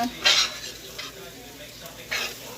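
Okra frying in butter in a pan, seasoned with Himalayan salt, with bursts of sizzling as a utensil stirs it, two louder stirring scrapes near the start and end over a steady frying hiss.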